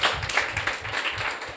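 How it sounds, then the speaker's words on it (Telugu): A church audience claps together in a steady rhythmic beat, close and fairly loud, with the claps blending into an even, continuous patter. "చప్పట్లు కొట్టారు ఇప్పుడు అందరూ."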